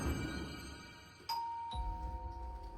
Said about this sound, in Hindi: कुछ समय बाद खन्ना मेंशन पर घर की घंटी बजी।